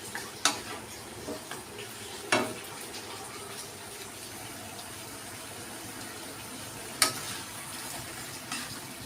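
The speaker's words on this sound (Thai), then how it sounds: "ทอดไปนะฮะ เหมือนกับทอดกับน้ำจนเริ่มแห้งแล้ว" Bite-size chicken pieces for a spicy chicken curry fry and sizzle in a pan with a little water, under a steady, soft bubbling hiss. A few sharp, close spoon-against-pan clinks mark the stirring, and nobody speaks.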